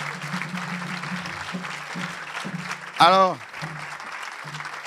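Church congregation at a French worship service clapping in a steady wash of applause, with a voice speaking over it and a brief rising vocal sweep partway through.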